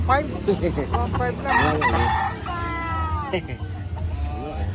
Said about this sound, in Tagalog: Ang laki. Ang laking manok.